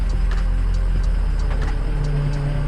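A 2003 Ford F-350 diesel pickup runs close by with a steady low engine rumble while its steering is turned all the way to one side, with faint ticks over the drone and no talking.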